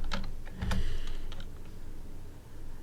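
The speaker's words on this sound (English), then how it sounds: "So let's type in VLOOKUP" Quick, close clicks on a computer keyboard come in a short irregular burst of keystrokes, then thin out over a faint room hum.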